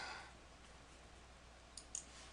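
A single mouse click while inserting a component in web-design software, quiet and close, with a couple of faint clicks near the end over a low, steady room hiss.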